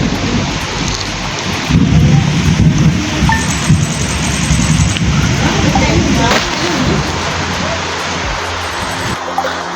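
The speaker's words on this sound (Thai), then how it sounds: "ฝนมันตกหนักอะเสียงฝนมันเข้ามัน ในคลิปน่าจะเยอะอยู่" Heavy rain pours down in a dense, loud wash with rumbling low tones resembling thunder, steady throughout, while someone talks over it.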